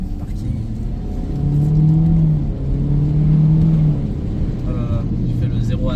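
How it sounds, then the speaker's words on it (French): A Hyundai Kona in shiftronic mode revs up hard across a parking lot, its engine note rising in two sustained surges under a steady rumble, close and loud. "Donc on va faire une petite accélération de passionné sur le parking."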